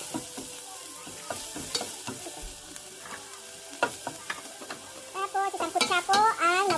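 Onion being sautéed in a pan for chicken sopas, a close sizzle broken by repeated scraping stirs of a utensil, with a voice speaking over it toward the end.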